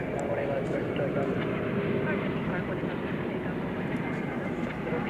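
A CRJ regional jet at DFW Airport at night, a steady broadband engine roar that holds throughout, with a voice talking over it.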